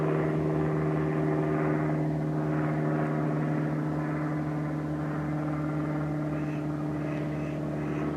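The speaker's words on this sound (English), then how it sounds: "Well, there goes a plane." An airplane passes high overhead above a garden, a steady, droning engine hum with a low tonal whine that holds evenly throughout.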